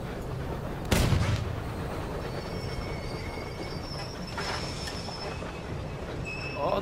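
Train rolling on rails in Battlefield 1 on a desert map, a continuous rumbling roll with squealing wheel tones, a sharp blast near the start and distant gunfire around it.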